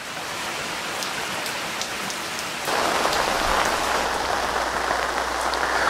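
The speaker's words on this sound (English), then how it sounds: "here we are back in the rain again in Northern California, and it has returned with a vengeance" Heavy rain pours down in Northern California, a steady dense hiss of drops on surfaces that grows louder and fuller partway through, with no voices.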